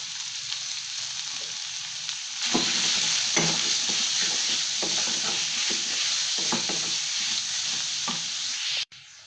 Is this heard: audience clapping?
no